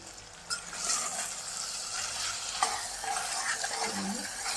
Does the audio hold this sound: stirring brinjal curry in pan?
yes